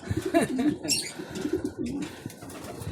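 Close pigeon cooing, a few soft throaty coos in a row, with some light rustling in the background.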